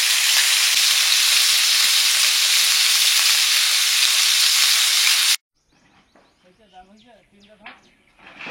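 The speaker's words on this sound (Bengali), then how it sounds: "মাছগুলো ভাজা হয়ে গেছে, আর 3টে বাকি আছে ভাজতে" Tilapia fish frying in hot oil in a home kitchen pan, a loud continuous sizzle that cuts off abruptly, followed by quieter kitchen sounds and a brief voice.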